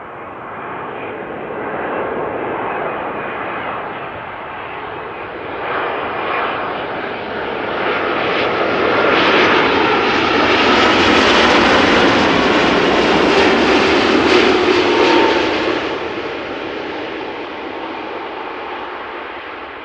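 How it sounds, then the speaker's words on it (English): A Boeing 787-10 Dreamliner arriving at Amsterdam Schiphol from New York JFK roars past, its jet engine noise swelling to a loud broad rumble and then slowly fading. "787-10 Dreamliner arriving from New York JFK."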